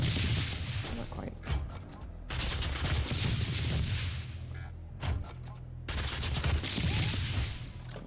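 Micro missiles from a weapon in DOOM (2016) fire in rapid crackling bursts, three loud volleys of clustered blasts separated by short pauses, close and harsh, with no talking.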